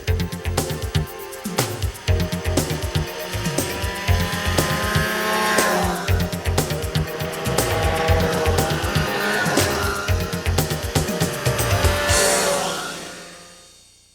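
Snowmobiles run on winter trails in Alberta's Golden Triangle, their engines whining loudly and sustained with sharp revving surges before fading away at the end.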